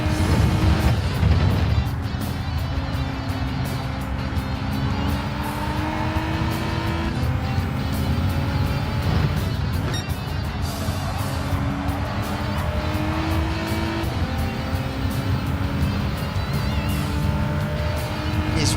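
Race cars in a Gran Turismo 7 race, engines droning steadily and close with shifting pitch as they brake and accelerate, constant and fairly loud throughout.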